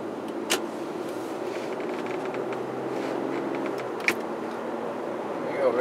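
Steady low road and engine rumble inside a 2005 Lexus GS300 sedan on the move, smooth and even throughout, with a couple of faint brief clicks and no talking.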